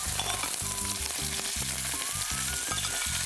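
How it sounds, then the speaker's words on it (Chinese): Steamed winter melon slices pan-frying in a home kitchen, a dense continuous sizzle close by, alongside a rhythmic low pulsing hum. "而家咧將佢咧就擺落煎"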